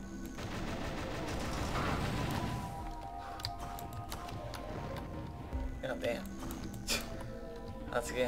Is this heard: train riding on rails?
no